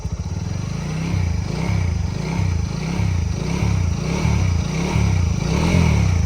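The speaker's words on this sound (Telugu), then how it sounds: "న్యూట్రల్ చేశాను బండి అయితే స్టార్ట్ చేశాను స్టార్ట్ చేసిన తర్వాత క్లచ్ క్లచ్ నొక్కేసి ఫస్ట్ గేర్ అయితే వేసాను సెకండ్ గేర్ వేస్తాను" A motorcycle engine idles and runs steadily nearby with a pulsing throb while the clutch is pulled and gears are shifted into first and second on a bike with burnt clutch plates, adding faint clatter and scrapes.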